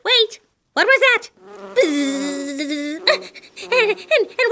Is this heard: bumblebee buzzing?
yes